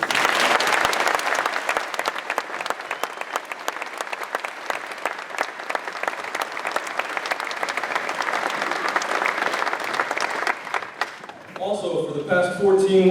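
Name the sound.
audience applause for graduating soldiers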